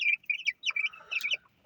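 Young chickens and cockerels give short, high chirping cheeps and clucks in quick bursts, close by, with no voices.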